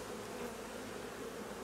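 Honeybees buzz at an open hive belonging to a drone-laying colony whose queen was left unmated: a dense, steady, close-up hum fills the whole stretch with no voices.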